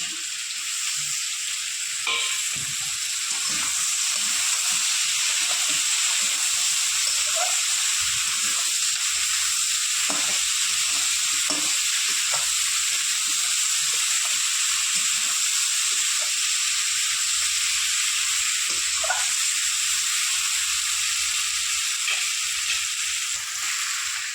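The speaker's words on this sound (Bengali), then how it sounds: "আমি একটা ঢাকনি দিয়ে ঢেকে ঢেকে ভাজবো ঢাকনিটা তুলে আবার একটুখানি নেড়ে দেবো" Potatoes fry in a lidded pan with chilli powder and chopped tomato, giving a steady, close sizzle and hiss throughout with occasional stirring clatter.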